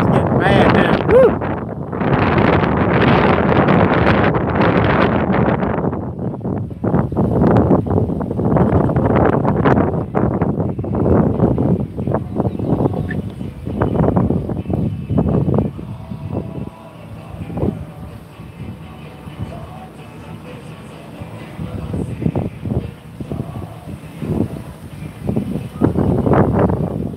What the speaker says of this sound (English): But this wind is getting bad now.